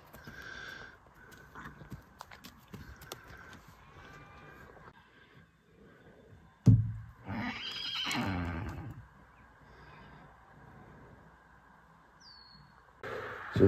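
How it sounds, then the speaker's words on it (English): Several horses whinny and neigh at a farm with a new horse shelter, one loud close call rising mid-clip among softer distant whinnies, with faint birds chirping and light shuffling noises around them. "this is my favorite part of the day when I get to talk to my horses and they answer me"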